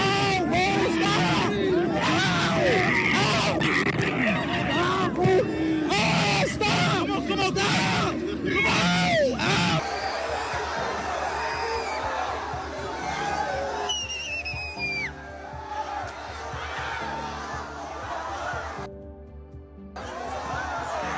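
A dense crowd of fans packed around a celebrity, loud shouting and excited screaming at close range that thins into scattered chatter and a few whistles.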